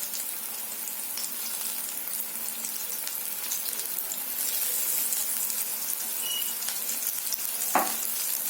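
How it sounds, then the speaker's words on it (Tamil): Battered fish bajji deep-fries in hot oil in a kadai, a dense, even crackling sizzle that holds steady throughout, with one brief clink near the end. "இதை ஒன்று ஒன்றா நம்ம வானலில் போட்டு பொரிச்சு எடுத்துடலாம்"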